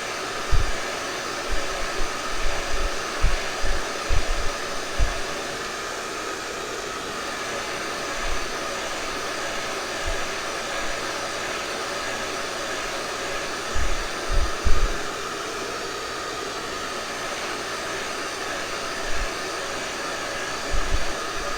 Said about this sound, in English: we will just blow dry these.